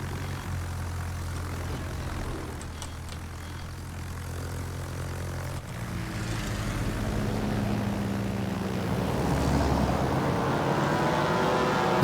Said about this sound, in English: We have a fresh fighter available this time at least.